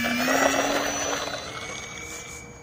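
A Cub airplane takes off, its engine droning loud and close with a rising tone that fades slightly as the tail lifts and the plane leaves the ground.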